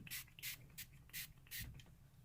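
A spray bottle hisses red paint onto a print in five or six short, evenly spaced bursts, close and fairly quiet.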